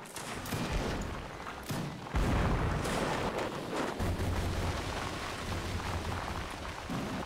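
Dense battlefield gunfire from the video game Mount & Blade, a steady crackle of musket shots with heavier booming volleys, loud and continuous throughout.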